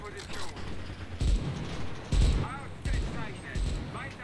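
Machine gun fire from a gunner in the shooter Enlisted, several loud bursts of heavy shots in uneven sequence, with someone talking between them.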